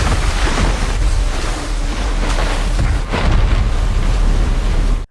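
Storm scene in a disaster film: strong wind and heavy rain roar as a loud, continuous broadband wash with a deep low rumble, steady throughout with a slight dip and surge near the middle, no voices.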